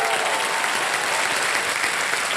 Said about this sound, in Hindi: ताली बच जाए इनके लिए।